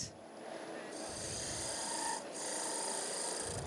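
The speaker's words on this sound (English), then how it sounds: "we'll go in with the spindle gouge and just start creating that curve from one side" A spindle gouge cuts a curve into spinning wood on a lathe, giving a steady, close rasping hiss that pauses briefly partway through.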